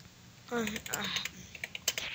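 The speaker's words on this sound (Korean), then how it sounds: "자, 타이핑할 때도 딱 맞게 한번 해봅시다." Quick keystrokes on a computer keyboard during an English typing exercise, a run of light irregular clicks up close with a few sharper taps, mixed with faint background voice.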